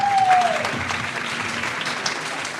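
Applause from a studio audience during a Pakistani cricket talk show, a steady wash of clapping throughout with a brief tonal whistle at the start.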